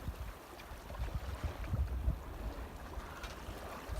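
A light breeze and small wind-driven waves around a sailboat under main and jib, leaving the Mothercombe estuary on the Erme: a soft, steady rush of wind and gentle water wash, faint and continuous, with no voices.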